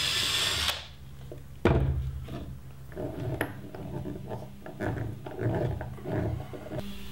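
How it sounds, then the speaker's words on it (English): Small screws are driven into a turned wooden pepper mill and salt shaker combo with a power drill, giving a few short whirring bursts and clicks at close range with no talking. "We're gonna go ahead and put in these little screws."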